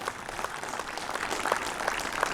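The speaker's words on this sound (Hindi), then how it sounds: "सभी अतिथियों का खिलाड़ी जोरदार ताली बजा के स्वागत करें" Players at a cricket tournament opening ceremony clap together to welcome guests, a sustained, dense burst of applause from a sizable group outdoors.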